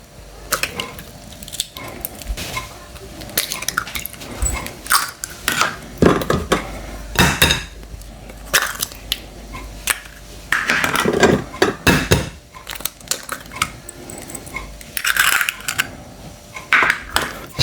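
Egg and butter are whisked together in a bowl, an uneven run of loud utensil scrapes and clinks against the bowl with short pauses between bursts, close and with no voices.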